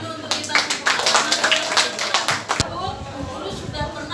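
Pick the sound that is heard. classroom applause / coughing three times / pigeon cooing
classroom applause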